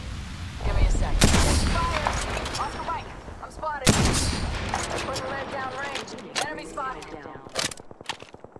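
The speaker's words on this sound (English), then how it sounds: "Getting shot at." Sharp gunshots crack out in an Apex Legends match, spaced irregularly between stretches where a character speaks, some shots loud and close, others quicker in short bursts.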